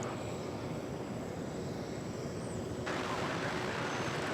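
An airliner waits for takeoff at DFW Airport, its engines a steady, broad, distant roar with low rumble that swells slightly toward the end.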